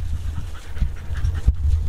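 Beagle hunting dogs panting hard after a rabbit chase, a close, steady run of quick rhythmic breaths with faint outdoor background and no talk.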